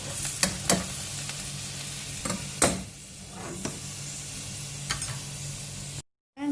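Tomato sauce with chicken stock is stirred in a pan, with a soft continuous sizzle broken by repeated scraping and clinking strokes of a spoon against the pan, close up, with no talking, ending in a brief cut to silence.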